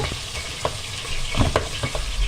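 Chicken pieces frying with onion in a pan, a steady close sizzle with a few scraping stirs and clinks of the utensil, no voices.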